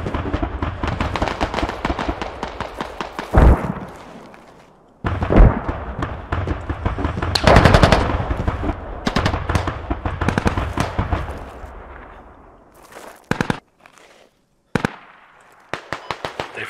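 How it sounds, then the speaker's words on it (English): Rapid volleys of gunfire in the military shooter Squad crack in dense, loud bursts, with a few short gaps and isolated shots toward the end. "we're getting shot at here"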